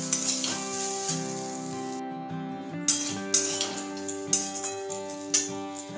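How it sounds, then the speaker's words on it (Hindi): Grated coconut frying in ghee in a pan for steamed modak, a steady soft sizzle running under prominent background music with occasional light clicks of a stirring spoon. "अब ये घी पे मैं ये नारियल डाल दूंगी अभी नारियल को थोड़ा सा फ्राई कर लेना है"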